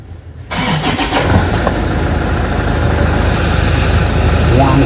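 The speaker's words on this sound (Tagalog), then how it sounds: "pa-startin natin yung makina" A large truck engine cranks and catches after a brief quiet start, then settles into a loud, steady rumbling idle.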